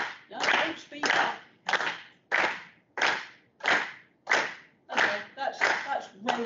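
Crowd clapping in unison with a presenter during a physics-of-music talk: roughly ten strong, regular group claps spaced about two-thirds of a second apart, slightly ragged as hands fall out of sync, with room echo after each.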